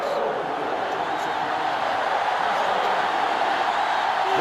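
A sellout stadium crowd in the NCAA Football 2005 video game makes a steady, loud, dense roar throughout, continuous crowd noise with no distinct cheers standing out.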